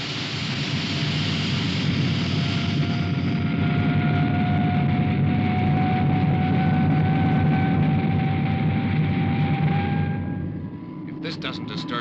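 An aircraft engine roars at full throttle during a vertical takeoff, a loud sustained whine with rising tones that fades near the end, followed by brief clattering.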